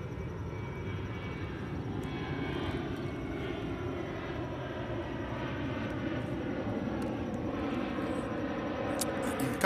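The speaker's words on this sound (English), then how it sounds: "You can hear the plane going overhead" A fixed-wing airliner from Washington Reagan airport passes overhead near the Lincoln Memorial at sunrise, a low, continuous engine roar that holds steady and swells slightly toward the end, with no talking.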